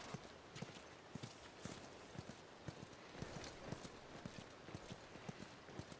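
Horse hooves clip-clopping steadily on ground in The Last of Us, a rhythmic series of soft, fairly close hoofbeats over a faint noisy background.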